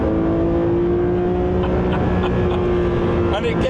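Engine of a Porsche 911 S/T (992) revving high toward its 9,000 rpm redline: a loud, steady, close drone that holds near the top of the range, then rises slightly at the end.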